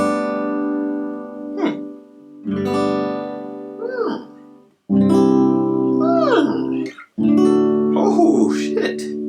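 A guitar tuned to open G is strummed in a few ringing chords, each left to sustain before the next, with short gaps between them. The chords are close and clear, with no talk over them.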